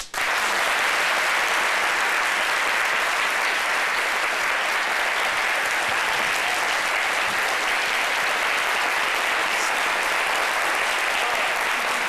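Sustained, loud applause from a live audience on an Ivorian midday television show, a thick unbroken ovation lasting the whole stretch with no voices rising above it.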